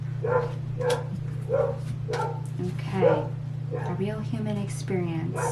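Dog barks and yips in short bursts over a person talking, with a steady low electrical hum underneath throughout.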